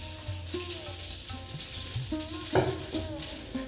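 Washed dalia (broken wheat) goes into hot oil for a quick veg upma, setting off a steady close sizzle and spatter that swells briefly near the end, with faint tonal sounds running underneath.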